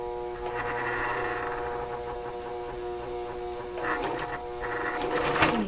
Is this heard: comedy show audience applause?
no